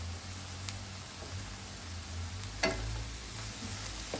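Mussels stir-fried with ginger are stirred in a pan, a steady sizzle of frying running throughout, with a couple of sharper scraping clinks of the utensil against the pan.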